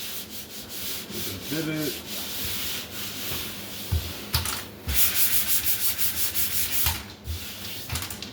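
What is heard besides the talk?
sanding drywall joint compound by hand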